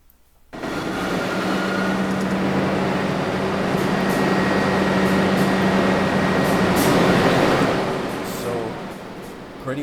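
Video-game subway train on the Belmont Avenue Express line, a steady loud rumbling roll with a low droning hum held for nearly the whole stretch after a quiet start, swelling slightly before easing near the end.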